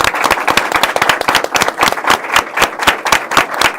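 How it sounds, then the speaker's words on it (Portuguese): A live audience at the launch of a mental health report gives a full round of applause: dense, steady clapping from many hands, close and loud, lasting the whole stretch without voices. "a salva de palmas pode entrar agora"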